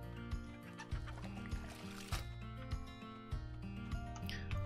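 Chickens cluck in the farming video game Harvest Life, a steady run of short clucks and fowl calls layered over looping in-game music, with no talk.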